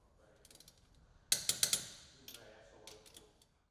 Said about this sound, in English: torque the lug nuts to specification in a crisscross pattern